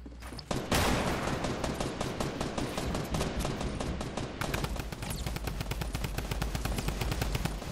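Rapid automatic gunfire in Fortnite Battle Royale, loud sustained bursts of closely spaced shots that start abruptly after a brief quiet moment and continue nearly without pause, with no talk over them.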